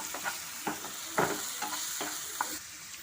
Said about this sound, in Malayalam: എന്നിട്ട് നല്ലപോലെ ഒന്ന് മിക്സ് ചെയ്ത് കൊടുക്കാം.